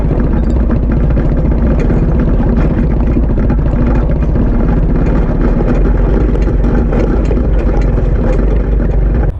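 A Suzuki King Quad 300 4x4 ATV engine idles steadily and loudly close by, a dense, even low rumble with a throbbing pulse that runs without a break, and no talk.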